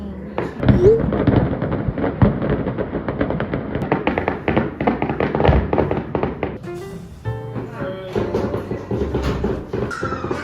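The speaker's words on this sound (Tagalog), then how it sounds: "The fireworks are starting." Fireworks crackle and pop in rapid bursts with occasional deeper booms, a continuous outdoor barrage over several seconds at night in a small town in Alberta, Canada.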